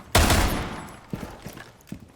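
Video game gunfire: one loud, booming shot with a long decaying tail, followed by a few softer thuds and clicks, with no voices.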